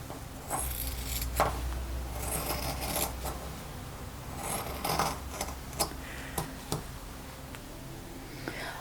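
Scissors cut through dress fabric along a lowered neckline, giving a series of soft irregular snips and crisp clicks spread over several seconds against a quiet room background.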